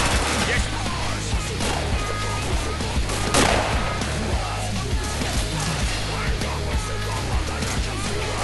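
Enemy gunfire in a shooting video game crackles in dense bursts over a constant low engine-like drone, with one sharper, louder blast in the middle.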